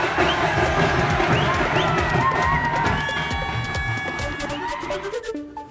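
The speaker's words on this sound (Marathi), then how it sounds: "लोकांची गर्दी।" A large crowd gathers at a village temple festival where palanquins of local deities meet during Holi, cheering, shouting and whooping together in a loud, sustained roar, with children's voices rising above it.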